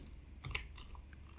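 Soft keystrokes tap on a computer keyboard while a shell command is typed for a bash scripting lesson, a brief, quiet flurry of clicks with one sharper key near the middle.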